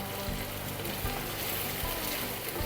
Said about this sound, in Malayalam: ഇനി ഇതൊന്ന് മൊരിയട്ടെ.